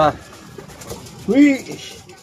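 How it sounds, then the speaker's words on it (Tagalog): Soft, low pigeon coos sound close by, a brief call at the start and a fuller rolling coo a moment later over faint background noise. "Nandito na pala yung mga kalapati natin."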